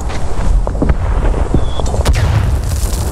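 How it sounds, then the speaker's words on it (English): Mortar rounds land in the World War I shooter Verdun, booming impacts mixed into steady battlefield rumble and scattered rifle shots, loud and fairly near. "Mortars."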